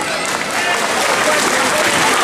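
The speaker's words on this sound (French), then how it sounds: "Voilà Mailleur, on l'applaudit très fort." A crowd applauds loudly and steadily at an anniversary celebration, the clapping dense and continuous throughout with some voices mixed in.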